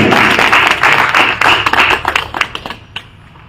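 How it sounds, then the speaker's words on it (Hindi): A crowd at a political rally in Madhya Pradesh, India, claps loudly and continuously, the applause thinning into scattered claps and fading toward the end. "जोरदार तालियां आप सभी लोगों की बचती रहनी चाहिए साथियों"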